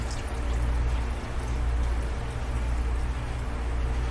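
Two cups of water pour into a Tupperware pressure cooker holding black-eyed peas and seasonings, a steady close splashing trickle running unbroken and fairly loud, with no talking.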